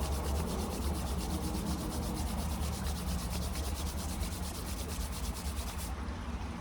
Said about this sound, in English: So you would rub your hands together.